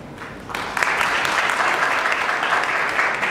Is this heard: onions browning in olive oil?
no